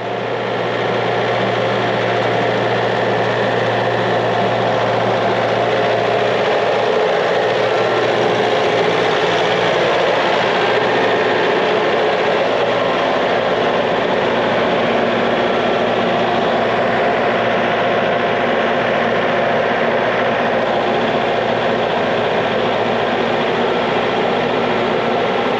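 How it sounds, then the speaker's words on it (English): A steady, continuous engine drone rumbles throughout, fairly loud and unchanging, like a tractor running nearby. "Here's he coming with the tractor."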